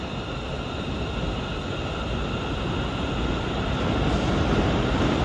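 A ScotRail train departs Glasgow Central station, its broad steady rumble and hum filling the platform, loud and continuous, with no voices.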